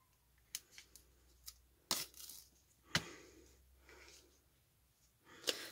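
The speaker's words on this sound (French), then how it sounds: "Une paire de ciseaux pour couper quand même le surplus" Scissors trimming surplus material on a Halloween craft, giving a few sharp, close snips spaced out with quiet pauses between them.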